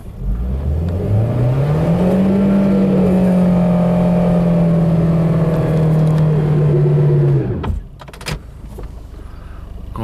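An old beater car's engine revs hard while trying to pull through snow, a loud, sustained rising then steady drone held for several seconds before it cuts off, leaving quieter clunks behind.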